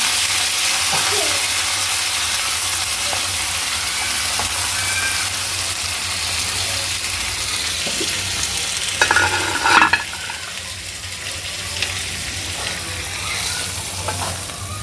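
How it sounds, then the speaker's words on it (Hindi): Steady sizzling of spices frying in hot oil for tempering lentils (dal tadka), continuous and close, with a brief louder crackle and stir partway through. "ये दाल को तड़का लगाया है।"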